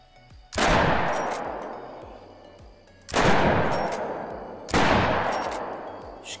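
Three loud, booming 10-gauge gunshots at an African buffalo in theHunter: Call of the Wild ring out alone, each followed by a long decaying echo, spaced a couple of seconds apart.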